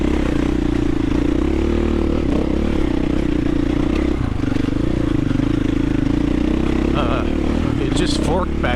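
A 650 dirt bike ridden hard on enduro singletrack, its engine droning steadily and loud close up, with clatter and scrapes near the end.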